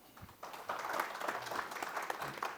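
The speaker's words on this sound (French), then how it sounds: "On peut l'applaudir, s'il vous plaît." A small audience at a French corporate technology presentation claps briefly, a modest patter of scattered hand claps rising after a quiet start and continuing for about two seconds at moderate, somewhat distant level.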